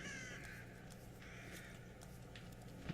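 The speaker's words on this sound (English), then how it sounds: "And then the random evil crows." Crows caw repeatedly in an outdoor scene of The Evil Within survival horror video game, harsh calls recurring at a moderate distance over a steady low ambient hum.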